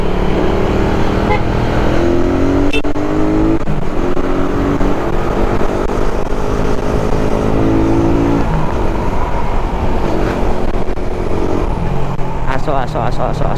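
A Suzuki Raider 150 motorcycle rides along the Lopez bypass road, its engine droning loudly and close with shifting pitch as it accelerates and changes gears, wind rushing throughout, and a rider talks over it.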